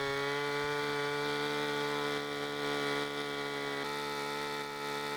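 An old engine-driven water pump left in a countryside hut runs steadily, a close, buzzing mechanical drone with strong harmonic tones that shift slightly in pitch partway through, with no voices.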